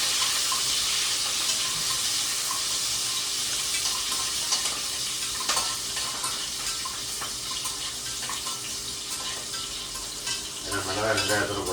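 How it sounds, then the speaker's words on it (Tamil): Green chillies fry in oil in a hot pan, a close, steady sizzle with occasional stirring clinks, and the crackle grows livelier near the end. "கல் சூடானதுக்கப்புறம் எண்ணெயை போட்டு மிளகாயை போடுறோம்"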